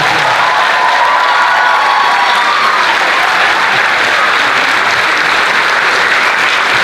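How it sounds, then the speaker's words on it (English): An audience applauds performers at the close of a show, loud continuous clapping with some cheering mixed in, holding steady without a break. "Another round of applause for everybody that performed."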